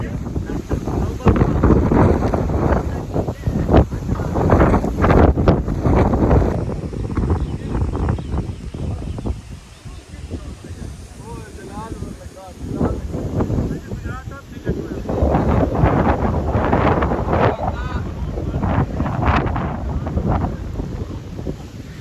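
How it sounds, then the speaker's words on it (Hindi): Strong gusting storm wind at a cattle shed buffets the microphone with heavy low rumble throughout, rising and falling in waves, as rain begins, while voices are partly buried beneath it. "हवा की वजह से वॉइस रिकॉर्डिंग जो है वो थोड़ी डाउन हो रही है।"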